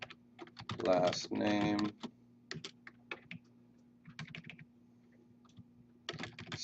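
Rapid keystrokes on a computer keyboard while filling in HTML form fields, coming in short bursts and scattered single taps, close and clear, with someone speaking briefly over them.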